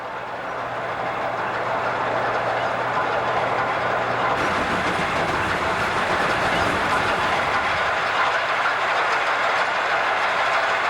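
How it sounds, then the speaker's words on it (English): Santa Fe steam train starting downhill on a 1955 recording, brakes applied: a continuous broad rumble of rolling cars with rattling clickety-clack, loud and steady throughout, a low hum dropping out partway. "The train begins its descent."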